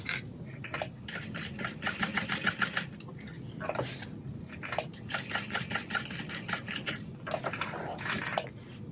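Sewing machine stitching a crossbody bag, rapid rhythmic clatter in several bursts separated by short pauses, close and fairly quiet with no talking.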